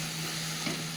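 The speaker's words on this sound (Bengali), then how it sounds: "সবজিটা খুব সুন্দর করে কষিয়ে নিয়েছি" Pumpkin curry stirred and sautéed in a pan, giving a brief, steady sizzle with a low hum beneath and a soft scrape of the spoon near the end, no voices.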